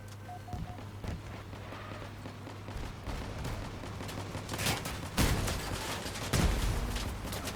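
Rapid bursts of vehicle gunfire from the Crossout vehicle combat game, with dense crackling shots that intensify toward the end over a steady low in-game hum.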